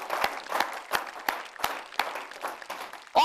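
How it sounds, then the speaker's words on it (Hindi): Applause breaks out for a poet, sparse and uneven claps from a modest audience with distinct sharp individual hits over a light crowd wash, ending in a brief louder burst. "तो जरा इनके लिए तालियां वालियां बजाइए"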